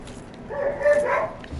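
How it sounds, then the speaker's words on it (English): A dog in Dark Souls gives a short whining bark, brief and moderately close, over low background noise. "What is wrong with the dogs outside?"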